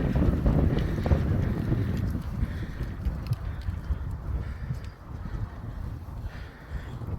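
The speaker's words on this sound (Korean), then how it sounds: "바람 부니까 조심해." Strong wind gusting over an exposed rocky mountain ridge on Suraksan, roaring and buffeting the microphone continuously and loudly throughout, with a low rumbling character.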